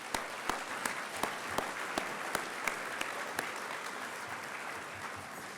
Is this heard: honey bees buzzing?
no